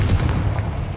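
A Confringo fire spell bursts in Hogwarts Legacy as a single brief, heavy booming explosion close up.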